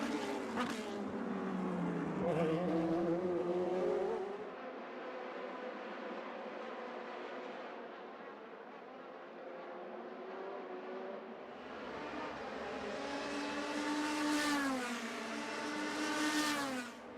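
Indy Lights race cars at the Long Beach street circuit scream past with rising and falling engine whines, loud near passes at the start and end and a quieter distant stretch in between, under a race commentator's voice.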